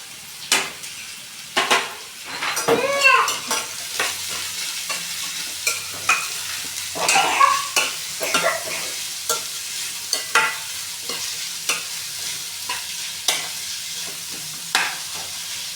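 Onions fry in a pan with mustard seeds and curry leaves while a spoon stirs them in repeated scraping strokes over a steady close sizzle, with no talking.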